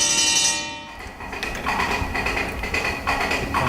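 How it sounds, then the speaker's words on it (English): A fire alarm bell effect on a Wurlitzer theatre organ clangs loudly at the start, then continuous metallic rattling and ringing carry on steadily, with no voices. "fire alarm,"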